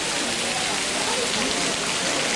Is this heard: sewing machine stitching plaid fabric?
no